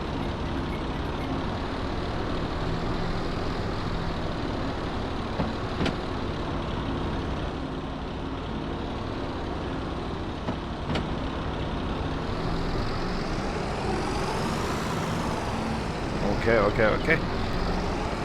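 A vehicle engine in a farm roleplay video game drones steadily with a low, tonal rumble that swells and rises in pitch near the end, while a voice speaks briefly.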